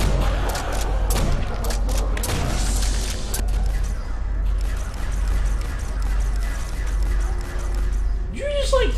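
Gunfire in the zombies mode Nacht der Untoten, a burst of sharp shots and impacts in the first few seconds, then steadier game noise and ambience, with players talking over it.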